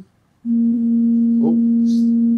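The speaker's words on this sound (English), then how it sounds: "sorry about the phone." A steady electronic phone tone starts abruptly and holds as a constant hum near the microphone, with a faint brief voice-like blip partway through and a short hiss near the end.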